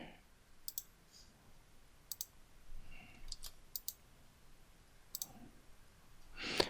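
Computer mouse clicks on a desk, a few sharp separate clicks spaced across several seconds, close and fairly quiet, with one louder burst at the end.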